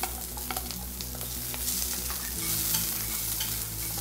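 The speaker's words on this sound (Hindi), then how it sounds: "सारी चीज़ों को हम अच्छी तरह से फ्राई कर लेंगे।" Onions sizzling in a pan with garlic and ginger for a noodle chaat, a continuous close frying hiss with occasional stirring scrapes and clicks.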